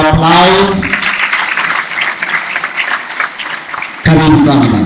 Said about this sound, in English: So please give him a very big round of applause.